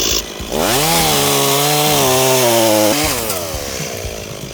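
A Husqvarna 353 gasoline chainsaw revs up loudly and cuts through wood, its engine holding a high, steady whine for about two seconds before dropping back to a rougher idle.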